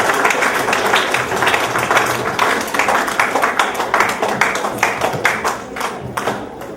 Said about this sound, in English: nous sommes capables d'applaudir